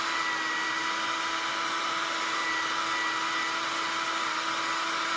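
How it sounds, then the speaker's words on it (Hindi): A hair dryer blows hot air onto a sticker to soften it, a steady loud whirring hiss that holds constant throughout with no speech. "तो हमने हेयर ड्रायर से स्टिकर को सॉफ्ट कर लिया है"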